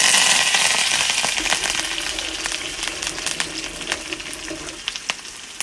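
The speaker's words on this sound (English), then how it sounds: "splutter the mustard, drop in the onions, the curry leaves" Onions and curry leaves fry in hot oil with spluttering mustard seeds for kalan, an Onam sadhya dish: a steady, close sizzle runs throughout, peppered with sharp pops and crackles.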